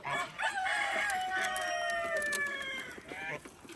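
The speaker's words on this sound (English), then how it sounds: "What are you chicken birds doing?" Farm chickens cluck and a rooster crows in drawn-out rising calls close by, layered with bursts of clucking, while a person talks intermittently nearby.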